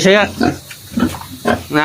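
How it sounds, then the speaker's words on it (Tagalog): Native Bisaya pigs, small-eared and stunted, in a pen on a small piggery farm; loud close grunts and squeals come in bursts, with people talking nearby. "Native itong baboy na to na."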